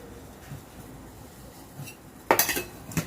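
A steel spoon clinks against a pot as tea powder is added for ginger tea, a few quiet taps followed by a brighter cluster of clinks near the end, close, no talking.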